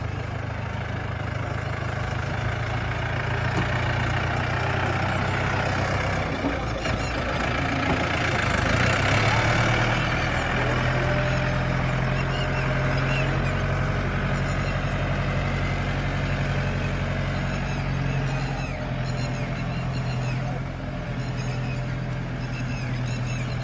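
A Yanmar 72-horsepower tractor pulling a sugarcane planter under light load runs steadily with a low, constant rumble and chugging hum, close by and unbroken throughout, with no voices.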